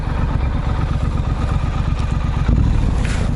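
A Street Scrambler motorcycle engine drones steadily and close by while riding, with a dense rumbling pulse and some clatter that swells slightly near the end.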